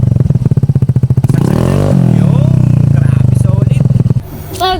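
A Yamaha Mio Gravis 125 scooter fitted with a full-system muffler and no silencer revs loudly up close, its pulsing idle swelling into a sustained raspy roar before dropping back, with people talking over it.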